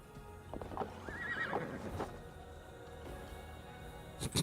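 A horse in Assassin's Creed Valhalla gives a clear, fairly close whinny. Hoof clip-clops sound around it and a few sharp clicks come at the end.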